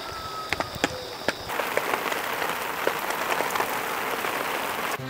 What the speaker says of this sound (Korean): 지금은 꽤 비가 많이 옵니다